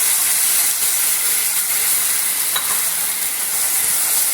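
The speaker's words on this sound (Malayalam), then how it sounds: "പിന്നെ അരച്ച് വെച്ചിരിക്കുന്ന പാലക്കിൻ്റെ കൂട്ട് ചേർക്കണം" Ground spinach paste hitting a hot pan with spices for a palak egg curry, giving a loud, steady sizzle and hiss that runs the whole time, with a brief scrape of stirring partway through.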